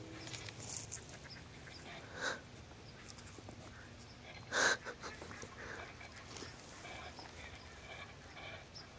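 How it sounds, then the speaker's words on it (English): Ducks quack faintly in the distance at dawn during an opening-day public land duck hunt in Kentucky, with a couple of louder bursts standing out over steady low outdoor background noise. "God, I hear ducks."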